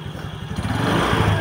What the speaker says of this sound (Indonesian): Nah, kita matikan dulu motornya.